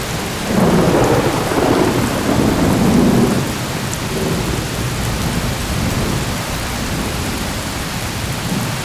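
A thunderstorm rolls over a campsite, with a loud low rumble of thunder for the first few seconds over steady, heavy rain and gusting wind.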